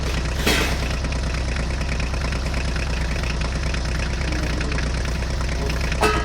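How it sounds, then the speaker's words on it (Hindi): Mini toy tractors drive along with their motors running, giving a steady, even engine-like drone that holds at constant loudness for several seconds, with no voices. "चलो बच्चों हम चारों मिनी ट्रैक्टर को लेकर चलते हैं"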